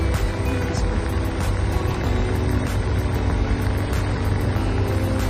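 Car air conditioner running at full blast with the engine near 3500 RPM, a loud, steady roar and hum of blower and engine, continuous and close with no breaks.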